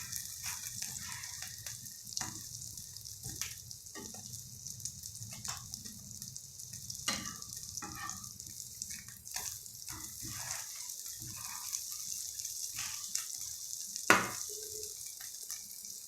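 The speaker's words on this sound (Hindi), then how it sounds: "शामी को हमने हल्का हल्का फ्राई करना है।" Shami kebabs fry lightly in shallow oil for an egg shami burger, giving a faint, steady sizzle across the whole stretch, with a few soft clicks and one sharper knock near the end.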